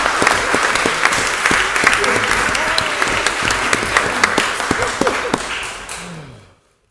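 Audience applause in a city council chamber, a room full of people clapping steadily with sharp individual claps standing out, then tapering off and ending in silence.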